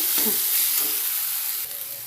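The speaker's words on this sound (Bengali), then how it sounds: "আমি এগুলো এবার তেল ছাড়া পর্যন্ত অপেক্ষা করব ভালো করে কষানো পর্যন্ত আলু মশলার থেকে তেলটা ছেড়ে যাবে" Potatoes and spices sizzle steadily in hot oil for an aloo keema curry, a close, continuous frying hiss with a few soft stirring scrapes.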